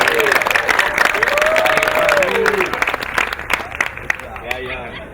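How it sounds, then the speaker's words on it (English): Sustained applause from a wedding reception crowd honoring the maid of honor, loud and steady clapping with cheering voices and chatter mixed in, tapering slightly toward the end. "you can keep the applause going, ladies and gentlemen, for the maid of honor"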